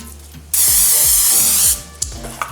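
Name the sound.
cooking spray onto baking sheet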